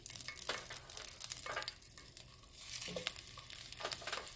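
Whole garlic pieces frying in oil for braised beef short ribs, a soft steady sizzle with stirring scrapes and bursts of crackle, fairly faint and close.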